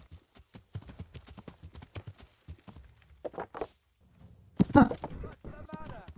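Horse hooves in the game Kingdom Come: Deliverance clip-clop in a steady walking rhythm, close by, with a louder clatter and snort near the end.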